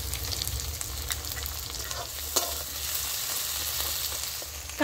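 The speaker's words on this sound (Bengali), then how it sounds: "আদা রসুন বাটাটা দিয়ে দিচ্ছি।" Ginger garlic paste frying with onion and capsicum in a pan for an egg chicken kathi roll gives a lively, steady sizzle. A few scraping stirs and one sharp clack cut through it, and no one speaks.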